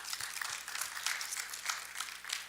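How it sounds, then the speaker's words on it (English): An audience at a health professions education conference session applauds: a soft, steady wash of many hands clapping together, heard at a distance and fairly faint. "Let's clap for the US government"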